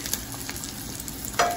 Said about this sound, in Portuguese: que tá fritando aqui, ó.